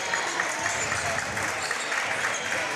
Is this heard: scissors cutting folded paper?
no